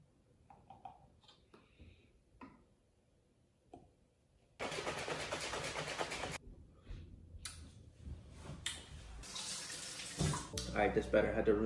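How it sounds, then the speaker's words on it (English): A mouthpiece rinsed under a running tap, with a burst of splashing water at mid-clip and again near the end, close and fairly loud, after quieter handling noises and faint background sounds. "had to rinse the mouthpiece out a little bit."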